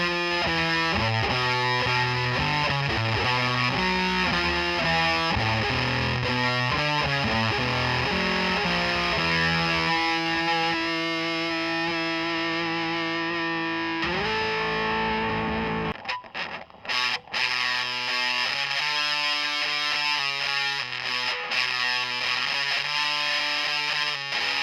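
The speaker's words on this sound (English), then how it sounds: "a lot of the sounds you get from the fuzz are close to almost being just a distortion or even overdrive" An electric guitar plays through a Soundslice FX Double Beater Fuzz pedal, giving a thick, buzzy fuzz tone. Chords and riffs are followed by sustained notes and a thinner ringing passage, loud and alone.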